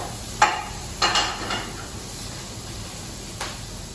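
Instant noodles cook in a pan under a soft, continuous sizzle, with several sharp utensil clinks and stirring scrapes spaced across the clip. The sound is fairly quiet and close, and nobody talks.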